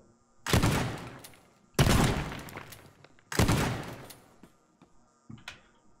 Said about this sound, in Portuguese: Dar uns tiros de 12 aqui, ó.